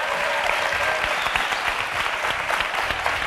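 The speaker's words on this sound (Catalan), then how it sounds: "un fort aplaudiment pel Didac." An audience in a television studio applauds a band, giving steady, dense clapping that fills the whole stretch with no pauses.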